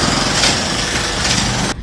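A bulldozer knocks down a house in Navi Mumbai, giving a loud, continuous broadband roar of engine and crashing debris for almost two seconds before it cuts off abruptly.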